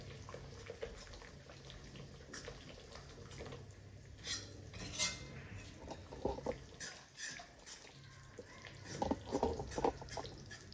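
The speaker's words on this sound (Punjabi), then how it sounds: "ਹੁਣ ਆਟੇ ਨੂੰ ਆਪਾਂ ਚੰਗੀ ਤਰ੍ਹਾਂ ਮੀਡੀਅਮ ਫਲੇਮ ਤੇ ਭੁੰਨ ਲਾਂਗੇ" Wheat flour for halwa roasts on a medium flame while a spoon scrapes and clinks against the pan in irregular strokes, quiet and close, with no speech.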